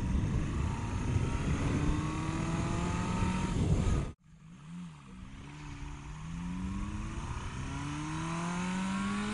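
A car engine revs while driving through a low-speed area, rising in pitch through the gears. A brief cutout splits the sound, then the engine continues accelerating steadily, close and loud.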